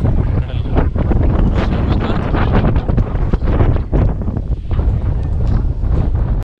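Strong monsoon wind roars across the seaside at Murdeshwar, buffeting the microphone with loud, continuous gusts from start to finish before stopping suddenly.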